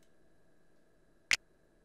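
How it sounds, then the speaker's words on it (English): A single sharp finger snap sample from an E-mu percussion drum module cracks once against near silence, brief and crisp. "It is a finger snap from the EMU percussion drum module,"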